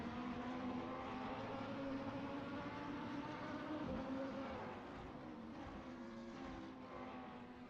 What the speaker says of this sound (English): You can hear the engine a little bit more.